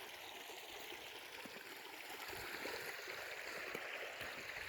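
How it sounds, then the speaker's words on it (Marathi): Irrigation water flowing steadily into a sugarcane field, a continuous rushing, gurgling wash heard alone, fairly close and even throughout. "आता पाणी चालू आहे"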